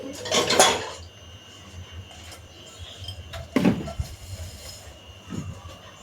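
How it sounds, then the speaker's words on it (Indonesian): Dishes and cutlery clatter as cooked fried chicken is moved onto a plate in a home kitchen, with a loud burst of clinking at the start, another sharp clatter midway and a softer knock near the end. "Sekarang kita pindah ke piring guys"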